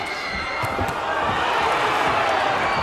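Boxing arena crowd at a WBU world title fight between Stephen Foster Jnr and Livinson Ruiz, a steady loud roar of cheering and voices as a punch combination lands, with a few sharp thuds in the mix.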